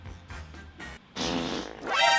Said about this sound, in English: I didn't mean to fart.